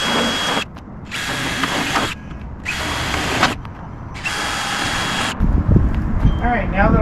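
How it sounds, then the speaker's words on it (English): A power drill with a 1/8 inch bit pre-drills screw holes in a metal skylight frame, giving three close, loud bursts of whirring separated by short pauses, followed by a voice speaking. "it's always better to come in with a 1/8 inch drill bit and pre-drill everything"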